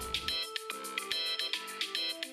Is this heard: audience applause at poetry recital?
no